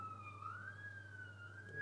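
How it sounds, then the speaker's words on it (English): A faint siren wails far off, its tone rising and falling slowly over a low steady hum. "there's some sirens in the background"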